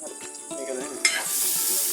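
Sausages sizzle in hot oil in a pan for a quick sandwich, with stirring scrapes at first and then a sudden surge into a loud, steady, close frying hiss.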